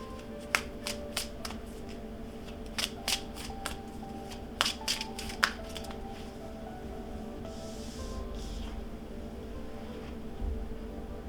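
Tarot cards being shuffled up close in a quick series of crisp riffling snaps and flutters, bunched in bursts over a quiet background, with no talking.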